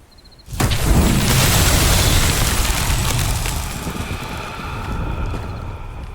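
A fiery Incendio spell bursts out in the video game Hogwarts Legacy, a sudden loud roaring blast that stays dense and booming for several seconds before easing slightly, with no talking.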